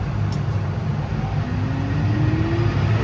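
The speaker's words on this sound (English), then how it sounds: "So we're going to start the baler up" A farm baler runs steadily at close range, its engine producing a continuous broad rumble with a low drone that builds slightly as it revs up, with no speech.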